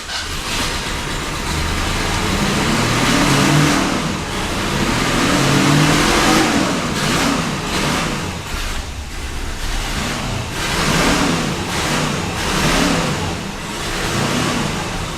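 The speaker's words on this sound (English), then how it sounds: "It idles great, it just won't rev." A barn-find Mercury Cougar with wet plug wires runs loudly and close, its engine surging and falling in repeated revs over a steady rumble, with no talk.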